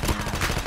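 An AK-117 in a mobile shooter fires a short, rapid burst of gunshots with a fast, steady rhythm.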